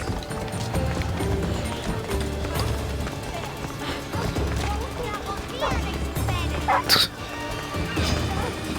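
Horse hooves clip-clopping in Assassin's Creed Odyssey, a steady rhythmic trot running throughout, fairly close, mixed with game ambience and a brief sharp noise near the end, with speech over it.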